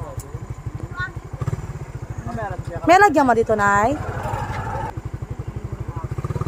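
A motorcycle engine idles with a steady, rapid putter close by, while people talk over it throughout.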